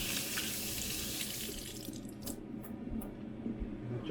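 A tomato is washed under a running kitchen tap, with a loud steady gush of water into the sink that stops partway through, leaving a few drips and light handling sounds.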